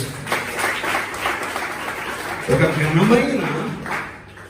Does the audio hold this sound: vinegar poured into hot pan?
no